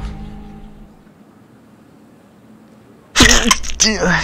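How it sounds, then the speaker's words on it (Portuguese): A single sharp sneeze from a man playing Vampyr, loud and close, bursting out suddenly after several seconds of near silence and followed by a brief breathy vocal trailing off. "Vou até espirrando aqui"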